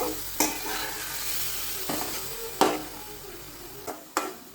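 Hilsa fish head being stirred into spices in a pan, a moderate steady sizzle broken by several sharp scrapes and knocks of the spoon at uneven intervals, no talking.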